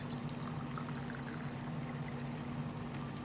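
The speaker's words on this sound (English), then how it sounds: "I'm going to put a little water so we could extract all the tomato paste" Water poured into a pan of tomato paste for beef menudo, a steady close splashing pour running evenly throughout with no talk over it.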